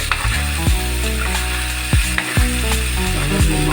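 Sautéed malibanos fish stirred in a pan, a loud, close frying sizzle with a few spaced scraping and clinking strokes of the utensil against the pan, no talking.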